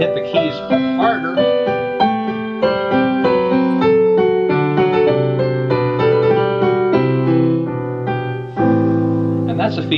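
Kurzweil KAG-100 digital grand piano in polished ebony played with a harder touch, a loud, busy run of struck notes and chords with strong attacks, close and without talk.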